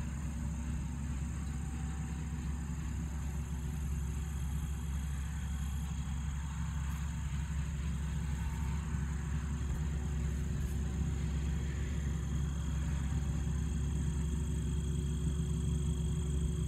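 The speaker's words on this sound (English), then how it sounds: "Tractor's moving nice and slow." A John Deere tractor engine runs steadily with a deep, continuous low drone while turning slowly in a bean field during harvest, with no talk over it.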